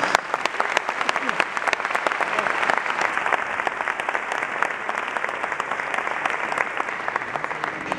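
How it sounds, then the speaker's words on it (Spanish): Sustained applause fills an award ceremony hall for a journalism photography prize winner, a dense, steady wash of many hands clapping at even loudness for the whole stretch, with faint voices beneath. "Aplauso para Alejandro Arias."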